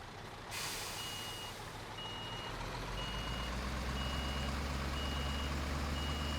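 Reversing beeps from a truck backing toward a lowboy trailer in Construction Simulator 2015, a steady train of evenly spaced high beeps over a loud, constant diesel engine rumble, with a short air-brake hiss at the start.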